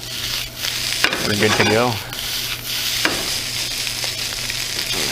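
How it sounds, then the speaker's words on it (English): Fried rice with eggs being stirred and tossed in a hot pan, a steady sizzle with scraping and rubbing of a utensil against the pan, close up, with a brief spoken phrase over it. "just toss to combine everything together"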